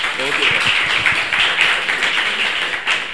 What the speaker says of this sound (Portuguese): Salve de palmas para o William Graça.